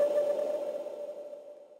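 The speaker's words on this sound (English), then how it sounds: "my favorite thing is this percussion hit" A single percussion hit from a sample pack, played dry without delay, rings as a tonal metallic ping that decays smoothly over under two seconds, faint and alone.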